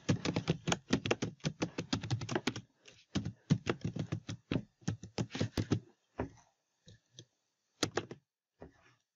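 Rapid bursts of keystrokes on a computer keyboard rattle out close and crisp, pausing briefly between runs and then thinning to a few scattered taps toward the end.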